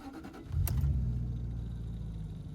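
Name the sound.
Jaguar XK8 engine starting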